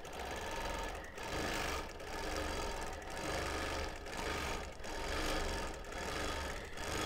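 A sewing machine stitches a mixed-fabric memory quilt with denim, running in steady bursts of rapid mechanical whirring separated by short pauses, close and clear with no voices.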